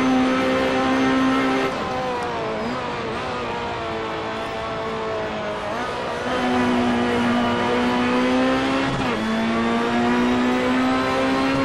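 A Ferrari P4/5 Competizione 2011 race car engine in the Assetto Corsa racing game at the 1967 Silverstone circuit, a loud continuous close howl that rises and falls with gear shifts and throttle changes, with no voices over it.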